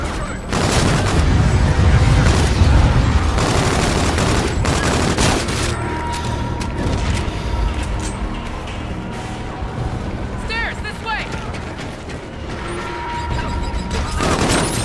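Gunfire in Call of Duty Infinite Warfare: dense fusillades of automatic fire and heavy booms, loud and continuous through the clip with brief mechanical clatter, no speech.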